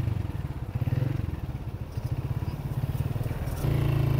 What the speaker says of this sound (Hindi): मेरे कंपेनियन जनाब मंसूर साहब मोटरसाइकिल को ऊपर लेकर जा रहे हैं